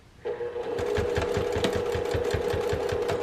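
Sewing machine stitching a vinyl project bag, running steadily with a fast, even mechanical chatter of needle strokes, close and clear with no talking.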